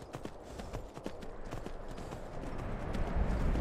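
Horse hooves in the video game Skyrim clip-clop in a steady rhythm, growing louder as the horse approaches along with a rising rumble.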